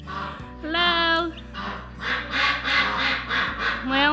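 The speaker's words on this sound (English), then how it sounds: "ducks are coming in. Hello, duck parade." Several ducks quack loudly and close by in a farm setting as they walk in, a run of raspy calls in quick bursts with a person's voice mixed in.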